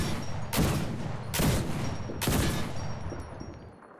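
Three loud, booming anti-tank rifle shots hit the side of a tank in a video game, fired at roughly one-second intervals, each a broad crack with a lingering rumble that fades toward the end.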